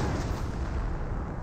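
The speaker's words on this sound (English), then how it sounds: "that was just a continuous barrage on the MG42" A brief, continuous artillery barrage rumbles in the Company of Heroes video game, heavy and low.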